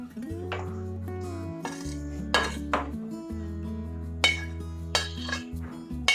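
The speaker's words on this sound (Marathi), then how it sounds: "आपण आता काढून घेऊ एका भांड्यामध्ये।" Roasted semolina and grated fresh coconut scraped from a pan into a metal pot, with clear clinks and knocks of metal utensils at irregular intervals, sounding close and distinct over a low, steady hum.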